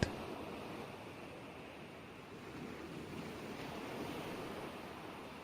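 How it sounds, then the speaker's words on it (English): Steady ocean waves washing in and out at a lagoon, a continuous soft surf roar with gentle swells and no voices. "the sound of the waves"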